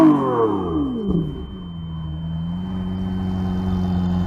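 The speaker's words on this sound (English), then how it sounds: "let's compare the exhaust sound when you rev them like crazy" A Lamborghini Aventador engine revs hard. The exhaust howl rises in pitch, drops back, then settles into a steady loud drone, heard up close with no talk.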